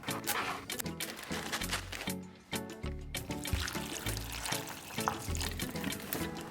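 Water poured over dry soy curls to soak them, a close, continuous splashing and trickling stream that runs throughout, with a brief dip near the middle and clattering bumps along the way.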